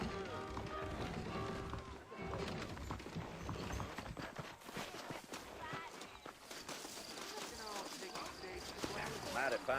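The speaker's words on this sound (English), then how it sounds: "I got the horses saddled up and ready out front." Horse hooves clip-clop in Red Dead Redemption, an irregular patter of steps heard faintly beneath steady talking and game ambience throughout.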